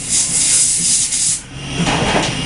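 Compressed air blasts onto a 7.3L Powerstroke diesel injector sprayed with carburetor cleaner, making a loud close hiss that runs steadily, dips briefly, then resumes as a second strong burst.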